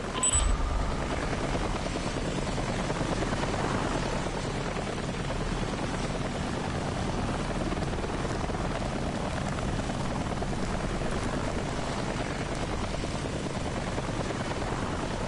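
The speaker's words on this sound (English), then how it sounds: "I can go without the helicopters" A helicopter in the video game Daymare 1998 drones steadily overhead, a continuous dense rotor-and-engine roar that holds at an even level for the whole stretch with no talk over it.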